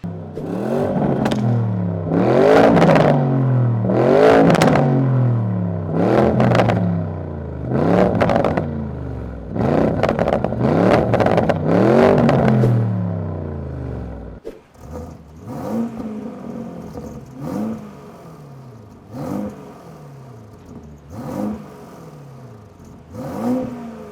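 A Lamborghini Urus SUV fitted with a Capristo valved exhaust revs hard in a run of loud, rising and falling blips, then settles into quieter, rougher throttle bursts and idle.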